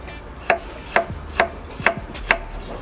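A knife slicing celery root finely for a beef soup on a cutting board, five crisp, evenly spaced cuts about half a second apart, close and clear with no talk.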